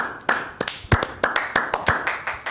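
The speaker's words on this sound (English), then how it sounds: "All right, round of applause." A small group at a yoga meetup claps in a sparse, uneven burst. Individual sharp hand claps land close together for a couple of seconds in a quiet room.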